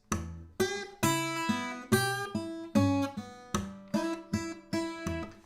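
A guitar plays a blues fill in an embellished version, a run of plucked notes and short chord stabs with a loose blues rhythm, each attack decaying before the next, solo and close.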